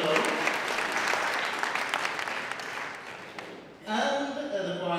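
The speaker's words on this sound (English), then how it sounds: "a round of applause for Mildred Lowe." Dense audience applause at a concert honouring a pianist, a full, steady wash of clapping for nearly four seconds that fades out before a voice starts speaking.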